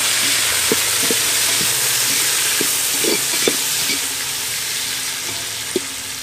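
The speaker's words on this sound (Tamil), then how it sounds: "எண்ணெய் சூடாயிடுச்சு, அதனால நம்ம இந்த பொருளெல்லாம் போட்டுடலாம். வெங்காயம் சேர்த்துலாம்" Onions frying in hot oil in a pan for home-made dum biryani: a loud, continuous sizzle close by, with scattered soft taps and stirring knocks underneath, no voices.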